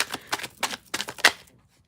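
Crystal deck cards shuffled in one full pass, a run of quick crisp riffling bursts about every quarter second, close and fairly loud, that stops after about a second and a half.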